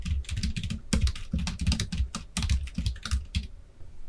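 Fingers tap rapidly on a computer keyboard, a close, clattering run of keystrokes in quick irregular bursts, with no voice over it.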